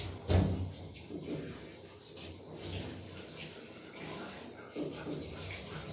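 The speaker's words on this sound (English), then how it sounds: "I'm going to turn the pressure up now, and we'll get the rest of her body rinsed off" Water spray rinsing a Goldendoodle during a grooming bath, a steady close hiss and splash in a tub, with a brief thump near the start.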